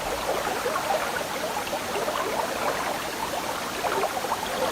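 Steady broadband rush of mountain stream water flowing over rocks through old forest in Yilan, Taiwan, continuous and even throughout with no voices.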